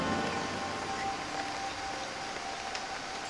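A heavy rainforest downpour, a steady close hiss of rain falling on leaves and surfaces, constant and even with occasional louder drops.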